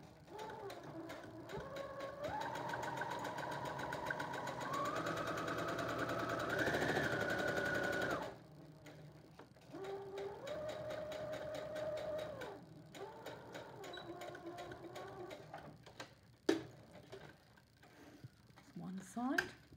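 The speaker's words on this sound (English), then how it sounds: "I'm going to sew those now on the machine." A sewing machine stitches a seam in a fabric face mask, whirring steadily in long runs with pitch changes as the speed varies, then stopping and starting again amid brief clicks and handling noises.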